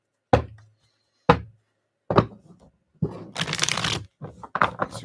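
Tarot cards are knocked and handled in several sharp taps, then riffled and shuffled in quick bursts of papery crackle, close and alone.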